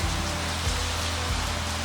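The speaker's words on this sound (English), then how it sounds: "it started to hail." Hail pours steadily onto a spring vegetable garden, a dense, even hiss of falling ice with faint low thumps, loud and continuous throughout.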